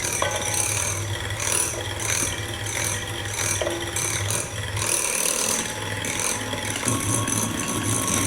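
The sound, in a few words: beating eggs with powdered sugar for brownie batter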